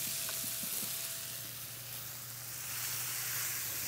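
Walleye cakes fry in olive oil in a pan, giving a steady, close hiss and sizzle with a few faint crackles, alone and unbroken for the whole stretch.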